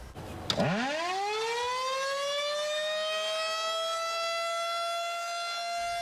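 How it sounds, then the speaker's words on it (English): An outdoor civil defense siren in Dane County, sounding for a monthly test, winds up quickly and holds a loud, steady wailing tone, heard alone without voices. "Dane County resuming monthly outdoor siren testing."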